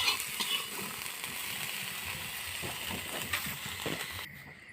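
Five-spice tempering fries in hot mustard oil in a kadai, giving a soft, steady sizzle with small crackles and scraping stirs that stops just before the end.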